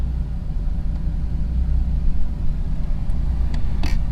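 An F-body car's engine idles after starting, a steady low rumble close by, with a few faint clicks and a brief rattle near the end.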